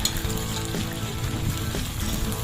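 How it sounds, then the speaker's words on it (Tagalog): Beef browning in a hot pan for a beef broccoli dish, with a steady close sizzle and frying crackle running the whole time and a few faint stirring knocks. "At yan na, ang ating beef medyo nagba-brown-brown na. Paprito pa ho natin ng kaunti pa."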